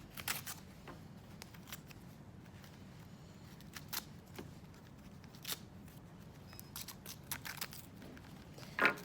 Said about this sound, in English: you're going to go ahead and you're going to rip off the template that you were using